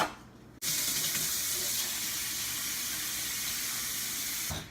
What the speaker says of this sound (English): So I'm just gonna cover it with water and leave this on the counter overnight.